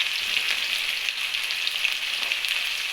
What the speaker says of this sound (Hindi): जो प्याज मैंने चॉप किया था वो डाल दिया